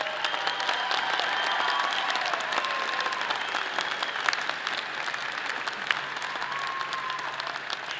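A large audience applauds Honor Scholar candidates at a Colorado State University College of Liberal Arts commencement, with dense, continuous clapping filling a big hall and a few sharper individual claps standing out.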